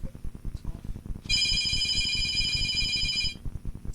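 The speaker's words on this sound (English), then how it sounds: "Whose phone is that?" A mobile phone ringtone plays from inside a bag, a bright steady electronic tone lasting about two seconds, while people talk around it in a room.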